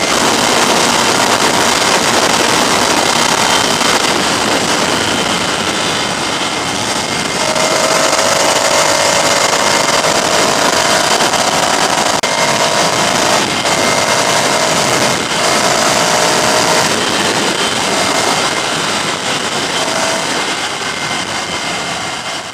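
Ducati Scrambler Icon motorcycle ridden hard on the road, engine and wind roaring continuously and loudly, with a rising tone partway through as it accelerates through the gears, no talking.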